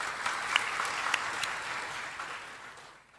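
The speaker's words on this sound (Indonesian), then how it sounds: "Tepuk tangan dulu untuk grup A" A small audience claps for a competing team at a provincial quiz final on the four pillars, moderate steady applause that fades out toward the end.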